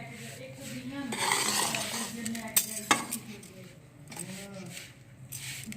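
A rice flour laddu mixture with dry fruits is stirred in a pan, giving soft scraping and a few sharp clinks of the utensil against metal, under a person's speech.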